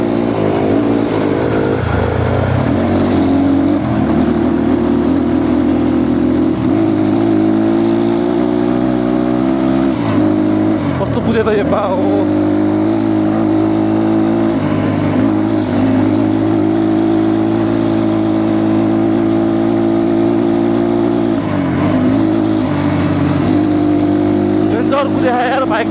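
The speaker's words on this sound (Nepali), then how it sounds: "दुईवटा बाइकमा रेस पर्छ अब यहाँ अफरोडमा रेस है" Motorbike engines drone and rev continuously during an off-road race between two bikes on a dusty trail, loud and steady with pitch shifts, while people talk over it.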